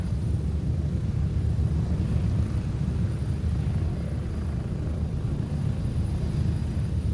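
A steady, loud aircraft engine drones without a break during a long in-game flight in Gray Zone Warfare, a dense low rumble heard alone with no talk.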